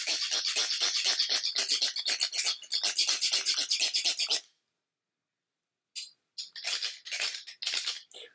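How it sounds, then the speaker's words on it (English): A jeweler's saw cuts with quick, steady back-and-forth rasping strokes for about four seconds, pauses in silence, then resumes in shorter bursts. The sawing is close and fairly loud, and no one talks over it. "You take one of these, which is called a jeweler's saw,"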